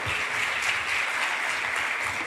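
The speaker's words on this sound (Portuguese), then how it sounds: "Vamos aplaudir a palavra de Deus, ela é digna de crédito." Church congregation applauding during a worship service, dense steady clapping that fills the space evenly at moderate level without pause.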